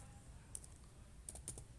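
Typing on a computer keyboard, a few sparse soft key clicks in small clusters, close but faint, with no voices.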